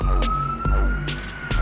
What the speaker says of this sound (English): Sorry about the ambulance or the police siren in the background